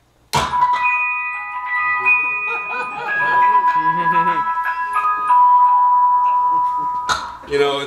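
Several wind-up music boxes playing at once, bright tinkling comb notes overlapping in a dense, clashing jumble of melodies, opened by a sharp knock and ending in clattering handling noises.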